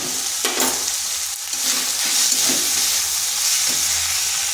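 Turmeric, cumin, coriander and chilli powders frying in a pan, a loud continuous sizzle broken by a few scraping stirs, close up with no voices.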